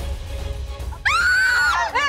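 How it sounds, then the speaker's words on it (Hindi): A woman lets out a loud, sustained, high scream as smoke gets in her eyes, rising sharply after a brief murmur of background noise, then breaking off. "चीखती है, इसके आंखों में धुआं चला जाता है तो वो चीख निकल जाती है"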